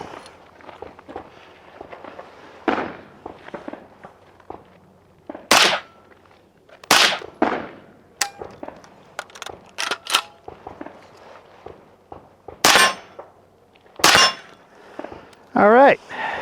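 Suppressed 5.7 rifle shots through a Dead Air RXD22 Ti suppressor at an outdoor range, several sharp supersonic cracks spaced seconds apart among clanks, shuffling and brief voices.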